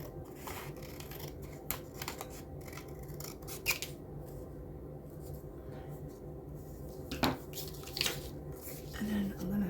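Scissors snipping paper for a unicorn and rainbow journal, making a few faint, sparse cuts spread over a quiet, soft background.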